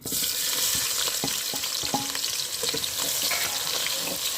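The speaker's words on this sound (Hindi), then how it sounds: "अब हम इसमें प्याज डालेंगे।" Medium-sized onions dropped into hot ghee in a pan for aloo gobi, a steady bright sizzle with scattered scrapes and clinks of stirring, close and even throughout.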